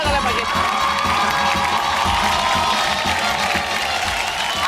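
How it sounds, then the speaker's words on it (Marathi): A studio audience on a Marathi television game show claps and cheers loudly for a contestant, with whoops and shouting in a dense, continuous roar. "जोरदार टाळ्या झाल्या पाहिजे."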